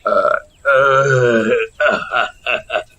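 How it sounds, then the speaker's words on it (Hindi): A man gives a long, drawn-out, loud burp after drinking sherbet, followed by a few short grunting vocal sounds up close. "शरबत पीने के बाद लच्छा डकारते हुए बोलता है"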